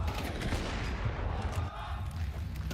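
Rapid gunfire from a Counter-Strike match at the StarLadder Budapest Major, dense bursts of shots crackling continuously and fairly loud, with a busy, layered game mix and no clear voices.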